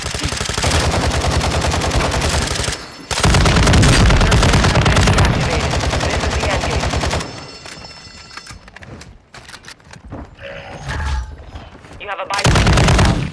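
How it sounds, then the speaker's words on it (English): Rapid automatic gunfire in a shooter video game on the Vondel map, with the Chimera weapon: loud, close bursts for several seconds, then a quieter stretch of scattered shots and effects before heavy firing returns. "They're shooting at me!"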